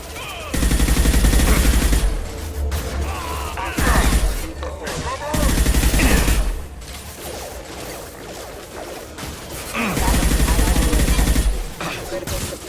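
Gunfire in Mass Effect 2, with heavy bursts of automatic fire and impacts in three loud volleys separated by quieter stretches, with game voices in between.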